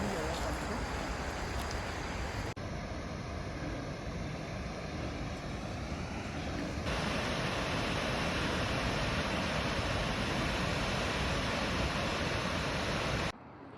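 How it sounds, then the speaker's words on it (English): A deep, continuous roar of a waterfall in a dark chasm on Iceland's Fimmvörðuháls trail, loud and steady throughout, swelling slightly partway through before cutting off near the end. "I can hear the thunder of a waterfall"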